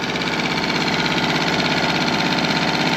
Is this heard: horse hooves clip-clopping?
no